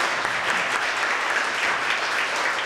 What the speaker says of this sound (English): Round of applause for Dean Schneider on the piano.